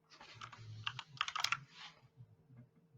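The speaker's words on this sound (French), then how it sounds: "Tu peux faire flèche du haut sur ton clavier et refaire entrer." Rapid typing on a computer keyboard, with clusters of close, crisp key clicks in uneven bursts, then a quieter low hum with a few scattered taps.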